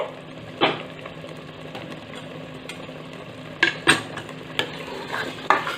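A spoon stirs thick pav bhaji in a hot pan, giving repeated scraping, clacking strokes over a low sizzle; the strokes come in bursts, louder toward the end.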